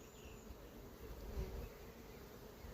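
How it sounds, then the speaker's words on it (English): Honey bees buzz steadily around a hive during a beekeeping inspection, a close, continuous drone that swells briefly midway, with no voices. "hopefully attracting more bees into another hive I've got"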